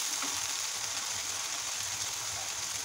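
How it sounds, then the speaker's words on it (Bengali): Onions fry in hot oil in a pan, a dense steady sizzle running close and unbroken the whole time. "এখন আমি পেঁয়াজটাকে ভেজে নিব"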